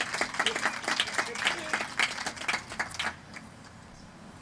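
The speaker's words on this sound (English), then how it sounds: "Round of applause for our JV team this week." A small group at a high school football team gathering claps for the junior varsity squad, a few seconds of scattered, fairly soft clapping that stops abruptly, followed by quieter room sound.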